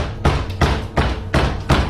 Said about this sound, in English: Listen to that pounding.